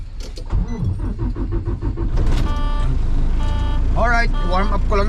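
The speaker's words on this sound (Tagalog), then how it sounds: "Start na natin ang truck." A semi truck's engine cranks and catches, then settles into a steady low idle as it warms up, with a voice speaking over the start.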